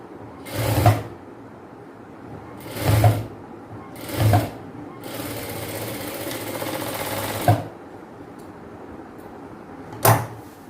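A sewing machine stitches fabric for palazzo pants in short separate bursts, one longer run among them, with brief pauses in between, heard close up.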